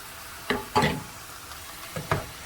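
A spoon stirs jackfruit curry cooking in a pan over medium heat, giving a few soft scraping strokes in short bursts over a faint steady sizzle, close and quiet, with no voices.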